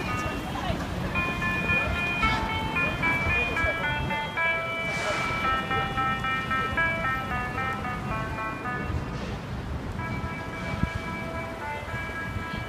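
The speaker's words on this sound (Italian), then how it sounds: "La musichetta che avete appena sentito è per dirvi che appunto potevate attraversare." A pedestrian crossing signal on a Tokyo street plays a simple electronic melody of repeating high tones, looping steadily over traffic noise and the rumble of passing vehicles.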